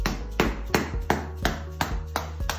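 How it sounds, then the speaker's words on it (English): Sharp metallic strikes land about every third of a second, eight blows of a hammer on a screwdriver to pry up an ESD floor tile, close and even, with no talking. "I'm going to take the screwdriver and hit it with this hammer."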